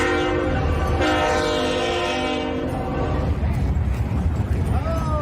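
A train rolls past up close at Harpers Ferry, its loud horn blaring with layered tones over the steady rumble and clatter of rail cars that keep going after the horn fades.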